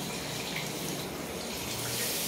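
Water poured steadily in a continuous stream over a newborn baby's back during a bath, a close, even splashing gush with no break.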